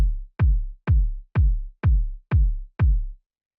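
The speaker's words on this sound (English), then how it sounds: "a bigger, more boomy, sort of like bassy kick" Seven deep, boomy kick drum hits at an even, steady pulse, each a low thump with a short decaying tail, isolated with silence between.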